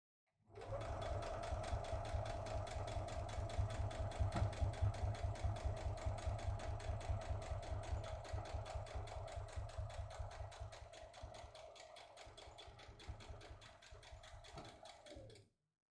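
A sewing machine runs a steady, fast stitching rhythm for about fifteen seconds, sewing a quarter-inch seam along the bottom edge of a drawstring project bag's pocket, close and continuous before slowing and stopping.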